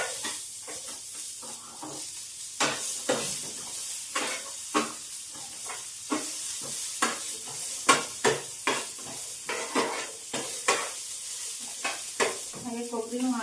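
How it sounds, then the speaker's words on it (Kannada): Sliced onions frying in oil in a pan for Bijapur-style chicken, a steady sizzle broken by repeated scraping stirs and clicks of the spoon against the metal, loud and close. "ಸ್ವಲ್ಪ ಎಣ್ಣೆ ಹಾಕಬೇಕು. ಇದು ಏನಿದು ಈರುಳ್ಳಿ ಹಾಕಿ ಸ್ವಲ್ಪ ಫ್ರೈ ಮಾಡ್ಕೋಬೇಕು."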